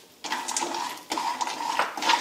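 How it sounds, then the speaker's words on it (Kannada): Almonds go into a pan for dry roasting, giving bright metallic clinks and rattles as they are tossed against the pan in two close bursts. "ಈಗ ಇದೇ ಪಾತ್ರೆಗೆ ನಾನು ಬಾದಾಮಿ ತೊಗೊಂಡ್ನಲ್ರಿ, ಅವನ್ನ ಹಾಕೊಂಡು ಹುರ್ಕೋತೀನಿ ರೀ."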